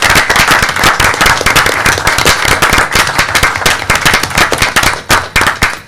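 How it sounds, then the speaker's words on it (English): Audience at a school board meeting applauding a high school head coach: loud, sharp, close-up claps with distinct individual hand strikes in a rapid, uneven rhythm, continuing for several seconds. "I'd like to hear a round of applause for our head coach, Patrick Toohey"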